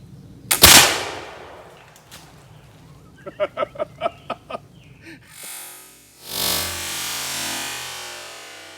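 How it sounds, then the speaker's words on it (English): .54 caliber Jaeger muzzleloading rifle fired at watermelons outdoors: one sharp loud shot early on, then a quick series of short clucking voices, followed by a broad rushing noise to the end. "I realized a 54 caliber ball in a watermelon pretty much causes it to explode."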